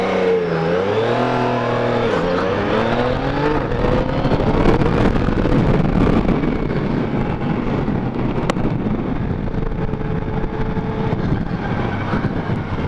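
Yamaha Niken three-wheeled motorcycle ridden on the road, its engine a steady close drone whose pitch climbs and dips with throttle over constant wind buffeting, with no talk.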